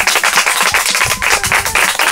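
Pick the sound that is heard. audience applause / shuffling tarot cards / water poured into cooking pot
audience applause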